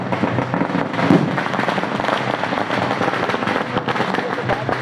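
Firecrackers and fireworks bursting at an evening blessing celebration in Patan, a dense continuous crackle of rapid pops and bangs with crowd noise mixed underneath.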